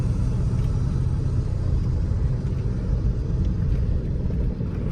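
A Skoda Laura Stage 1 and a Mercedes C 200 Stage 1 accelerate hard in a drag race, heard as a loud, continuous engine roar and rumble with no talking.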